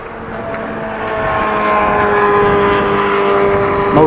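A motorbike passes on a road during a long bicycle commute, its engine tone rising and growing louder over a few seconds as it approaches and goes by, with wind rush in the background.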